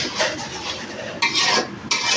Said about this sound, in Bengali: এখন সর্ষের বাটাকেও আমরা তেল ফ্রাই করে নিচ্ছি।